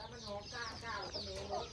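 White ducks on a farm quack and chatter in a busy, overlapping flock close by, with voices talking faintly underneath.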